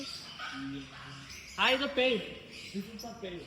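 Dogs at a resort let out two quick barks close by, with a softer yelp shortly after, while people talk in the background.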